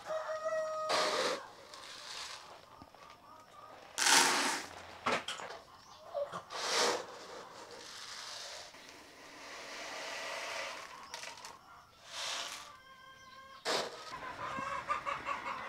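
Hens cluck and a rooster crows on a small Cebu farm keeping Rhode Island Red chickens, with repeated loud crowing bursts rising over steady nearby clucking and fowl chatter, with no talking.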